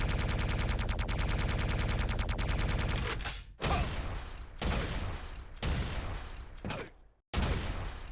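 Explosions in the Quake DeFRaG video game, a dense rapid barrage of blasts followed by several separate loud booms with short silent gaps between them.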